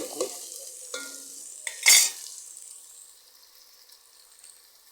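Chili powder hitting hot oil in a simmering Tamil fish curry pan, giving a close sizzle with a few scraping stirs and a sharp burst of hissing, then settling into a steady low fry.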